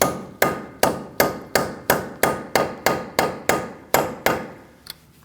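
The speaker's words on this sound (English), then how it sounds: "Now we're going to unpin our nut using a punch and a sledgehammer." A sledgehammer strikes a punch to unpin the front axle nut on a 2002-2006 Toyota Camry, landing a dozen sharp metallic blows in a steady rhythm. The hits are close and loud, each with a short ringing decay, and no one speaks.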